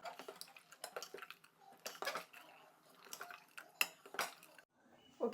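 Ash gourd sambar being mixed with ground masala in a pot, heard as a series of irregular metallic clinks and scrapes of a spoon against the vessel, fairly close and moderately loud, with brief pauses and no talking.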